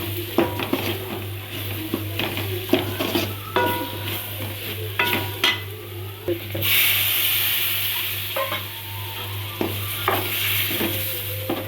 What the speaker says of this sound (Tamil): இப்போ மசாலா போட்டுக்கலாம். கொஞ்சம் பச்சை வாசனை போத்தண்டி வதக்கி விட்டுக்கலாம்.